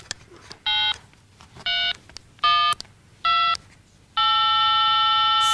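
A telephone being dialed gives four short, evenly spaced tone bursts, then a longer sustained tone starts near the end, all crisp and close over a quiet background.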